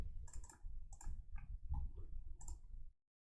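Rapid, irregular clicking of keys on a computer keyboard during a sports card case break, a close, steady burst of keystrokes that stops abruptly near the end.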